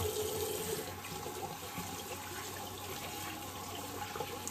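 Tap water runs steadily into a sink in a home bathroom, a soft continuous splashing hiss held at an even, faint level with no talking.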